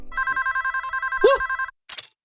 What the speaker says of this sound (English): the telephone at the police station started ringing